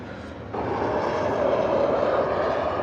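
An Embraer airliner of Helvetic Airways, arriving from Zurich at Birmingham Airport, passes overhead with a broad, steady engine roar. It swells slightly after the first half second and holds loud and continuous throughout.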